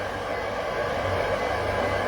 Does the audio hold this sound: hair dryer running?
yes